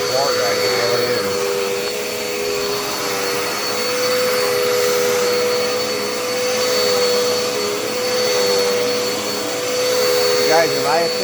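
A Dirt Devil Endura Reach vacuum cleaner runs steadily throughout, a loud continuous motor whine with a strong fixed tone and rushing airflow, rising and falling slightly as it is pushed over the floor.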